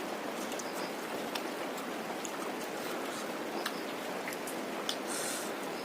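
Steady light rain patters on surfaces nearby, a soft continuous hiss with scattered distinct drops and no talking.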